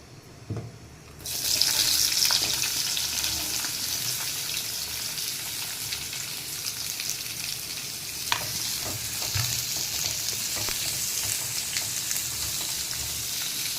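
Onions drop into hot oil in a pan while cooking masala chole, a sudden loud sizzle that settles into a steady frying hiss, with occasional stirring clicks and no talking.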